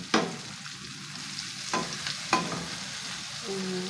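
Taro stolons (kochur loti) with spices fry and simmer in a covered pan, giving a soft steady sizzle broken by a few sharp clanks of a spoon stirring against the pan.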